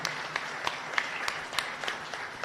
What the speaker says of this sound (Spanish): Un fuerte aplauso para todos nuestros catequistas aquí de la comunidad.